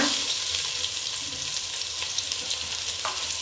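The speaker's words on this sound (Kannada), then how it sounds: "ಮೊದಲಿಗೆ ಆದ ನಂತರ ಈರುಳ್ಳಿನ ಹಾಕೊಳ್ತಾ ಇದ್ದೀನಿ. ಈರುಳ್ಳಿ ಸ್ವಲ್ಪ ಫ್ರೈ ಮಾಡ್ಕೊಬೇಡ" Steady sizzling of onions frying in hot oil, a continuous crackling hiss with a faint clink near the end, no talking.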